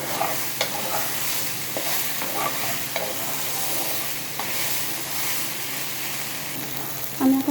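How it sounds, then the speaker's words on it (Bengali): Brinjal tossed into a hot pan for a taro curry and stir-fried, a steady sizzling hiss with a few soft scraping strokes of a spatula through the clip and a louder clatter near the end. "আমি বেগুনটা দিয়ে দেবো।"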